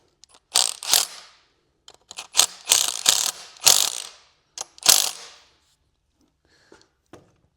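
A ratchet tightens bolts on a bracket of a Ford E-Series during an oil cooler relocation, heard as several close bursts of quick clicking strokes separated by short pauses, then a few faint final clicks.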